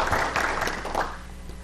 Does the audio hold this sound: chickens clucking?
no